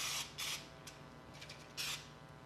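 An almost empty spray can hisses out in short, sputtering bursts with pauses between them, close and fairly quiet, as cake-baking spray is applied to a bundt tin.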